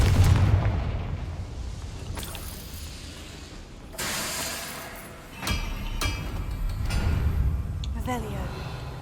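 A Confringo fire spell explodes in Hogwarts Legacy, giving a loud booming blast with crackling debris layered over game music and ambient sound, while a voice talks in the background.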